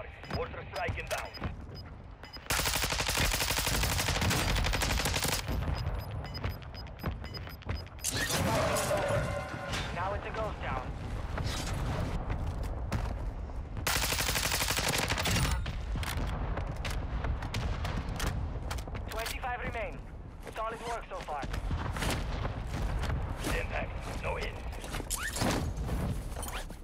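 Air strike gunfire in Call of Duty Warzone 2.0, with dense continuous blasts and rumbling impacts across the whole stretch, loud and sustained, with game radio voices calling in the strike.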